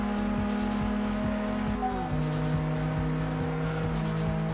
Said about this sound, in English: we're being overtaken by the Jag